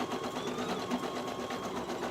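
An embroidery machine stitches a placement outline in white thread, a rapid, even mechanical whirr and tapping close by, steady for the whole moment.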